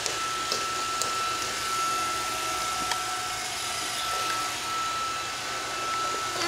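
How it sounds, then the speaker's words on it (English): A Roomba robot vacuum cleaner runs nearby in a home with a crawling baby, a steady whirring motor hum with a constant tonal whine and faint bumps, continuous and fairly close. "Eli, what's the Roomba doing?"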